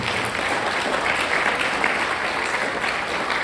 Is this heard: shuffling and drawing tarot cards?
no